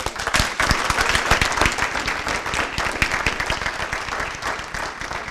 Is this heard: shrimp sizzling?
no